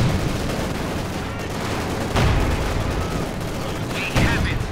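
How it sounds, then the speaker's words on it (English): Light machine gun fire in a Company of Heroes 2 battle, Grenadiers firing at Soviet conscripts: dense, continuous gunfire crackle with a couple of heavier bursts, under a commentator's voice. "moving up here goes the Grenadiers with a light machine gun"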